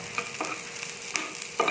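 Shallots soften in a pan of hot oil for a Kerala-style fish head curry, a soft continuous sizzle with light stirring scrapes at close range and no talking.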